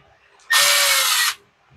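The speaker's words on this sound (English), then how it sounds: "Get the two screws in place for her." A short, steady whirring buzz of about a second, like a small electric driver spinning screws into an old Zama carburetor on a Mantis tiller, loud and close with quiet handling noise around it.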